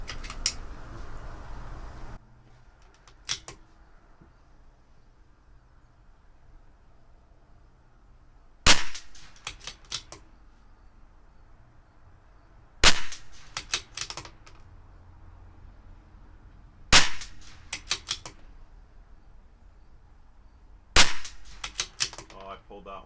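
Five or six sharp cracks from a CZ457 target rifle firing RWS target ammunition through an Olympic barrel, spaced several seconds apart, each with a short ringing tail, against quiet outdoor background.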